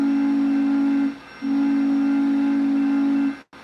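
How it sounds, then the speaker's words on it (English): A FEF-3 steam locomotive whistle sample sounds a steady, loud tone, briefly stops, then resumes in a long second blast before cutting off. "So we have the FEF3 horn sample."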